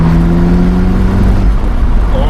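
An Alfa Romeo 4C Spider's engine in dynamic mode gives a steady, loud, close drone that holds an even pitch and then fades a little toward the end. No one speaks over it.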